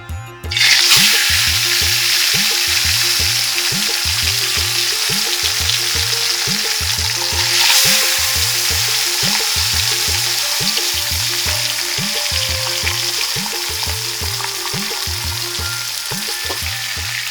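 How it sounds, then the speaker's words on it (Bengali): Tilapia fish frying in soybean oil in a pan gives a loud, steady, close sizzle and crackle, with a rhythmic background music track underneath throughout. "এখন মাছ ভাজার পালা"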